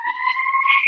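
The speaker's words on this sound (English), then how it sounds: "the siren sounds by the end of the second." A steady, loud electronic siren marks the end of the second quarter at a sports match, holding two sustained tones for just under a second with no talk over it.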